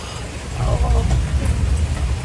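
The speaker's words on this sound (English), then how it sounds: "Oh, do you hear it? It's raining," Steady heavy rain hisses close by, with a deep low rumble underneath.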